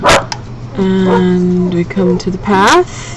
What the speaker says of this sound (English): you can hear my little dog barking. I have a Jack Russell Terrier